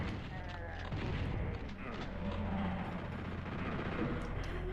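Heavy, continuous bursts of chaingunner gunfire in the Doom game, PlayStation edition on the PsyDoom PC port, loud and dense with booming low rumble across the whole stretch.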